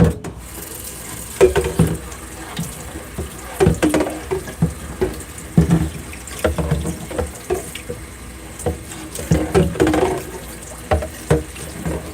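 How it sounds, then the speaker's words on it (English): Water from a sink tap runs while something is washed, with splashing and clunking handling noises coming in irregular bursts close by. No one speaks over it. "I gotta wash this out here now."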